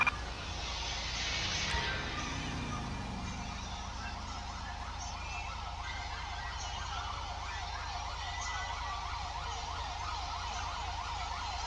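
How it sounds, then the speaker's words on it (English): Police car sirens in GTA V with the LSPDFR mod wail continuously in a fast, repeating yelp pattern, steady and moderately loud, over a low engine hum. "They're approaching with their siren on"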